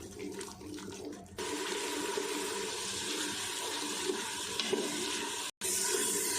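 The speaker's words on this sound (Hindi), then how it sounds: "थोड़ा थोड़ा पानी डालते हुए हमने मसाले को अच्छे से भून लेना है" Water added to frying masala in a pan for mutton paya curry, a loud sustained sizzle and hiss that starts abruptly, continues steadily, then breaks off briefly near the end.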